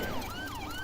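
A police car siren wails in a Roblox game, its pitch sweeping up and down steadily and continuously, loud and close with no voices over it.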